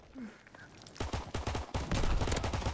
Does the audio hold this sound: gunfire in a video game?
yes